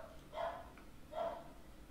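Small dog barking, two soft yaps spaced nearly a second apart, faint and somewhat distant in a quiet room.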